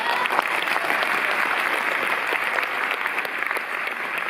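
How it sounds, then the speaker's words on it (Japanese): Crowd at a yosakoi dance festival performance claps steadily, a dense, even wash of hand clapping that holds without a break throughout. "温かい心と温かい手拍子で迎えていただければと思います。"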